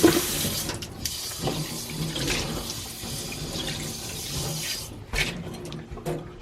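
A stainless steel cooking pot gets washed under a running kitchen tap, with continuous splashing water broken by scrubbing and clanking bursts, close up and without talk.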